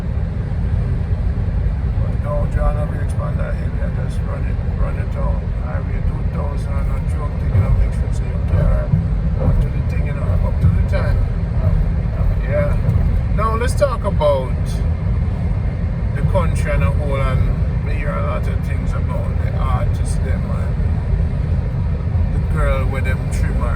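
A car cruising along Highway 2000 in Jamaica, with a constant loud road and engine rumble inside the cabin and someone talking over it the whole time.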